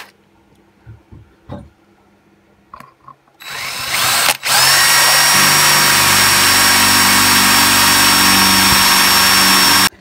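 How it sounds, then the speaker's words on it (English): Power drill boring a hole in a plastic part of a Stihl BG86 leaf blower, with a few light handling clicks and bumps before the drill spins up loudly and runs steadily for about six seconds, close by. "I'm just gonna drill it from that."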